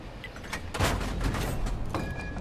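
A tank cannon fires in World of Tanks, a single loud boom followed by a rumbling tail and a lighter mechanical clank near the end.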